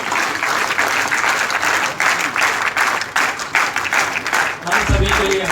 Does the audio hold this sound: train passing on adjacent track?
no